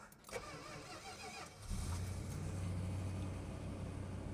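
A 1969 Plymouth Road Runner's original 383 V8 cranks and catches, then settles into a deep, steady idle rumble close by, with no talking.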